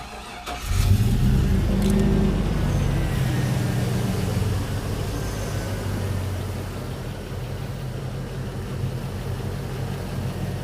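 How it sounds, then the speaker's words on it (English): A 2002 Chevrolet engine cranks and catches, revs briefly, then settles into a steady low idle that rumbles on without pause. "let's go ahead and start the engine"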